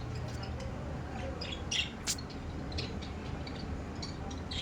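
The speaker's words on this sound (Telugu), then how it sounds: "మాకు ఇక్కడ చిన్న చిన్న పుచ్చుకలు ఉన్నాయండి, అవి ఒకటే గోల్ చేస్తున్నాయి కదా." Small sparrows chirp in brief scattered bursts over a constant low background hum, a few sharp tweets standing out.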